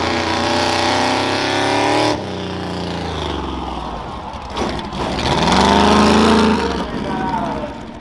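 Monster truck engine at a county fair rough truck event, roaring loudly and revving up and down beneath a public-address announcer.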